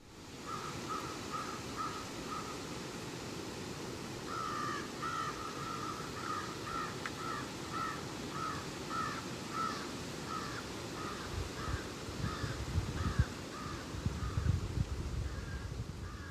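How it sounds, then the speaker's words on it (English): Crows caw in repeated short calls over a steady hiss of falling rain in East Gloucester, with occasional closer drips and patters. "Those are crows and the rain falling in East Gloucester."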